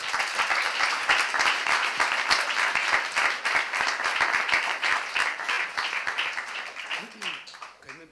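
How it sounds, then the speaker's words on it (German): An audience at a panel discussion gives a big welcoming round of applause, with many hands clapping steadily for several seconds before it thins out and a voice begins speaking at the end. "wir begrüßen erstmal unsere Panelisten mit einem großen Applaus"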